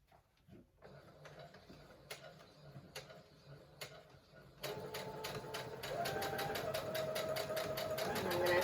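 A sewing machine stitches fabric for an elastic face mask, starting with a few scattered ticks before settling into a steady, close mechanical hum that runs to the end.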